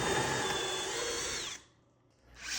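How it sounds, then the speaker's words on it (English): A power drill whirs steadily for about a second and a half, drilling holes in a wooden live-edge table for threaded inserts, then cuts off into near silence before spinning up again briefly at the end. "I drilled out the holes for my threaded inserts"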